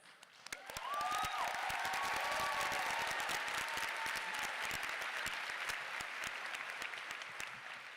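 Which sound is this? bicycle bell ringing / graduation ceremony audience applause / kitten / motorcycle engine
graduation ceremony audience applause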